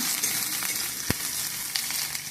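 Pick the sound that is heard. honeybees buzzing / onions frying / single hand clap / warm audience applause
onions frying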